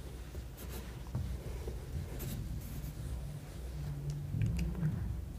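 Marker or chalk writing on a board while working a fabric cover-factor weaving calculation, soft scratchy strokes over a steady low room hum, no speech.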